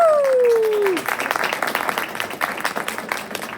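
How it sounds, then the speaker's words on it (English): A falling whistle-like tone gives way to a small group clapping, scattered and moderate in volume. "How about a round of applause for Dangerous?"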